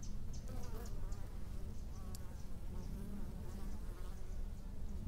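Steady, dense buzzing of many honeybees close by at a hive entrance in winter, a continuous low hum with occasional sharper passes of individual bees flying near.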